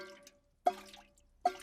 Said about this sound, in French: Vous voyez, ça goutte depuis un moment déjà.